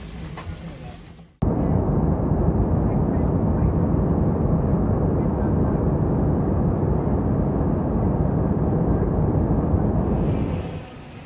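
Steady, loud low roar of an airplane cabin in flight, continuous engine and air noise after a brief bit of other sound at the start.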